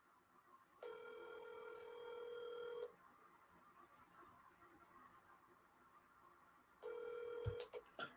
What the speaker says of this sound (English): Burger Boy doesn't answer his phone a lot